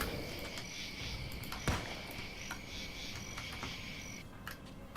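Cicadas chirping in the video game Alone in the Dark: Illumination form a steady, shrill, buzzing drone with a few faint clicks, continuous and fairly loud with no voices.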